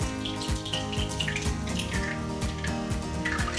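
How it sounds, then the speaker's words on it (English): Homemade almond milk poured slowly through cheesecloth, a continuous close trickling and splashing of liquid with no talking. "So we'll just pour it slowly. Let our cheesecloth grab that pulp."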